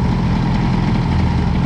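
Boosted scooter engine fitted with an Airsal XT 77 kit idling, running lean when the throttle is closed, a dense, steady low rumble close by with no voices over it.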